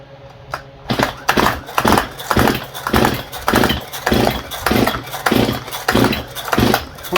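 A Stihl MS171 chainsaw with a carburetor problem runs unevenly, its engine surging in a steady rhythm of repeated pulses but failing to rev up properly, loud and close.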